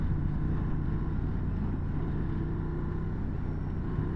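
Honda Transalp XL750 motorcycle being ridden on a test ride, engine and wind roar steady and loud throughout with a constant low drone, no clear surges, no talk.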